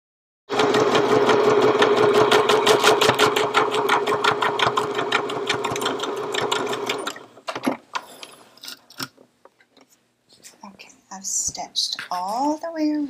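A sewing machine stitches a 3/8-inch seam on a changing pad with rapid, steady mechanical chatter for several seconds, then stops, followed by a few short clicks and a voice talking.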